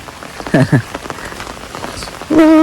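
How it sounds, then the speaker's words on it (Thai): Heavy rain falls steadily in a broad, even hiss of drops on surfaces. It carries on without a break while short vocal sounds rise above it now and then, with a louder burst near the end. "ยากลำบากแล้วคันฝนตกจังสิ"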